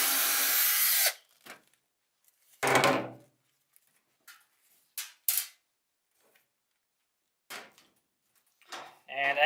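A power drill backs screws out of the side of a clothes dryer's front panel, a loud whirring burst first, then short separate drill and handling bursts with clicks between quiet gaps.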